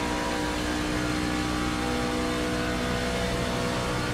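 Racing truck engines drone in the iRacing video game as the trucks run down the back stretch at Chicagoland Speedway, a loud continuous high-revving roar with no voices over it.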